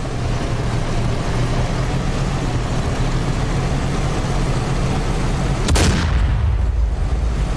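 A sharp, loud blast in the combat flight game DCS World cuts through a constant heavy rumble of engine noise, with the roar dipping briefly afterward.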